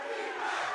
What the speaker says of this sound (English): the crowd getting involved now